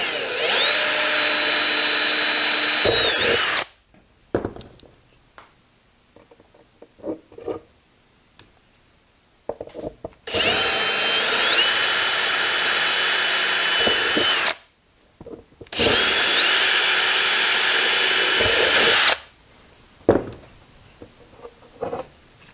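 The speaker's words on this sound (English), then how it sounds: "Now we take this drill guide and do the same with our disc right here." A power drill runs through a disc for a Wimshurst machine, guided by a drill guide, in three long loud whining bursts separated by quiet pauses with small handling clicks.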